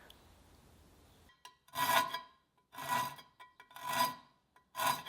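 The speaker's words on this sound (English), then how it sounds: "I need to file this a little bit so it'll fit" A metal tube being filed by hand to fit an axe head: four distinct rasping strokes in an even rhythm after a quiet start, close and loud, with no voices.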